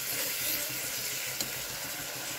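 Curry sizzles steadily in a pan while being sautéed down in Bengali kosha style, a continuous dense frying hiss with a faint stir near the middle and no talking.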